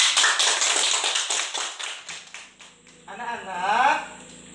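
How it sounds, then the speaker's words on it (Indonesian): Children in a classroom clapping their hands, a quick run of sharp claps fading off over a couple of seconds, followed by someone speaking. "Ini tepuk tangan dulu."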